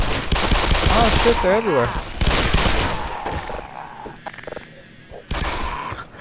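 Rapid bursts of video game gunfire fired at headcrabs in Black Mesa, loud and dense through the first seconds, then thinning into scattered shots and thuds while someone talks excitedly over the shooting.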